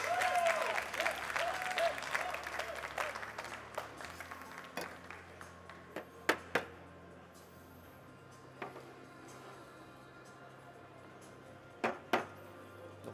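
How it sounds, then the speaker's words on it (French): Applause rises in the hall during the final of a latte art championship in France, fading after about four seconds, then leaving scattered sharp knocks and clinks of cups and equipment over a quiet room. "applaudissements pour la première réalisation"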